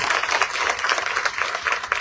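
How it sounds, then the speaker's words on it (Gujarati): An audience at a public meeting in Surat applauds, a dense burst of many hands clapping at once, loud and steady for a couple of seconds with no talk. "આ ટીમને એકવાર જોરદાર તાળીઓ આપો."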